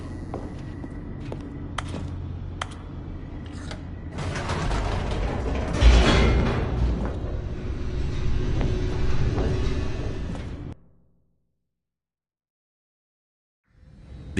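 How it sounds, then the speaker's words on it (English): An elevator in the video game The Stanley Parable descends with a grinding mechanical rumble, creaks and rattling clanks that swell and then stop abruptly into silence. "The elevator raced downward, plummeting towards an unknown fate."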